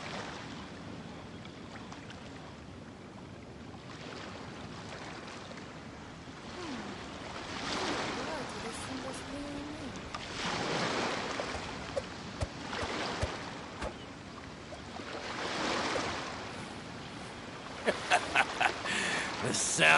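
Rolling ocean surf in Genshin Impact swells and recedes in a steady wash, with louder crashing surges through the middle and a few sharp clicks toward the close.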